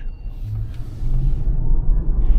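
Cabin of a Tesla Model Y cruising at 150 km/h on a highway: steady, loud low rumble of road and wind noise that swells slightly, with no talk.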